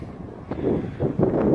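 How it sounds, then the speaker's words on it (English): Gusty wind buffeting a partly hand-covered microphone outdoors, a low rumbling rush that swells in bursts over about a second and a half. "Hopefully it's not too windy for you guys."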